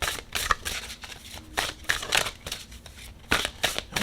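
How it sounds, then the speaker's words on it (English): A deck of Unshakable Inner Peace oracle cards is shuffled by hand during a tarot-style reading, with repeated papery riffles and soft slaps in uneven bursts, close and clear, with no talking. "Let's go ahead and shuffle."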